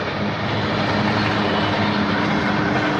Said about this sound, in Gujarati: બાજુમાં રેલવે લાઈન છે અને હારો હારે ટ્રેન જાય